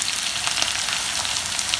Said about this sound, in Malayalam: ഇനി നമുക്ക് ഈ ഉള്ളി നന്നായിട്ടൊന്ന് വഴറ്റി കൊടുക്കാം